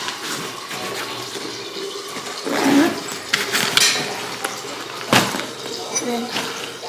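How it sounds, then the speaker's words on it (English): Water running from a tap into a water bottle, with splashing and a bump or two, while people talk nearby. "Mom's gonna fill up my water."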